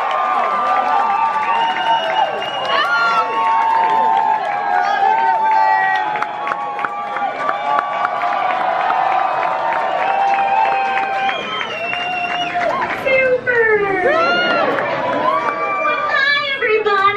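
Dense crowd chatter fills a theme park pre-show building, a continuous steady murmur of many voices with children's speech and occasional louder calls rising out of the din throughout.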